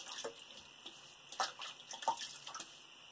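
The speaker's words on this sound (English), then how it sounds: "Let's go ahead and wet the face." Hot water splashed onto a face to soak the whiskers before a beard shave: several soft, faint splashes and drips in a quiet room, with no talk.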